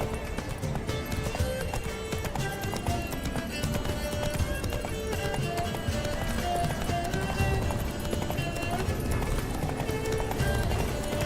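Geralt's horse gallops through The Witcher 3 in a steady, close clip-clop of hooves, with an occasional neigh and game music layered over it from start to finish.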